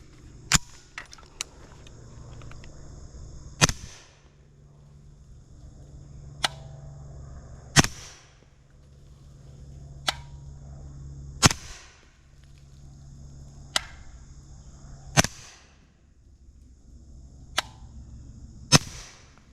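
A suppressed B&T GHM9-SD 9mm fires 124 grain ammunition, six sharp, evenly spaced shots about every four seconds, each a crisp crack with a faint metallic clack, quiet pauses between.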